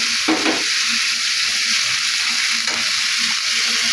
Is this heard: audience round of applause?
no